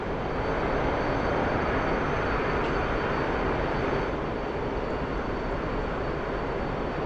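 An F-15EX jet engine in the DCS flight simulator gives a steady, loud, broadband roar that holds unbroken throughout.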